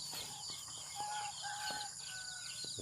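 A rooster crows outdoors in a rural morning setting, its call moderately distant and drawn out, with other faint bird chirps and background ambience around it.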